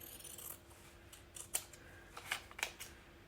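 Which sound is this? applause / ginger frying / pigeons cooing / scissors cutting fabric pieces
scissors cutting fabric pieces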